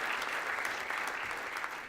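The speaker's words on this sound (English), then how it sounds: "Can we just get one more round of applause for Daniel?" An audience applauds a speaker, Daniel Berkman, after his mixed reality talk at a spring talks event: dense, steady clapping from many hands fills the room evenly for the full stretch, with no voices rising above it.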